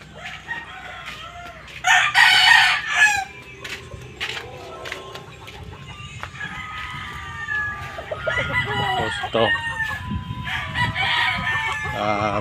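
Chickens cluck close by on a farm while a rooster crows loudly around the second mark, followed by more scattered clucks and calls and a second, fainter crow near the end.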